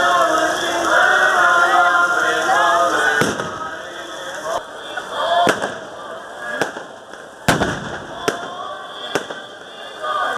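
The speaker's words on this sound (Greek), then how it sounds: "ο Ιούδας οδηγείται στην Κρεμάλα όπου καίγεται την ώρα που φαναράκια και βεγγαλικά φωτίζουν τον ουρανό της Ούδας." Fireworks and firecrackers burst at an Easter burning of a Judas effigy in a Greek village, sharp loud bangs spaced irregularly over crowd murmur and crackling.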